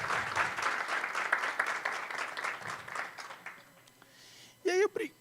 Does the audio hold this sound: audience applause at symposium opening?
yes